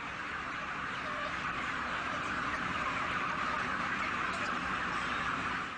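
Dense, steady chatter of many chickens packed inside an intensive poultry production shed, a continuous mass of clucking and calls with no gaps, moderately loud throughout.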